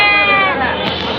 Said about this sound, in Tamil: ரெண்டு செம்மராட்டை குட்டி தான் அண்ணன் வச்சுருக்காப்புல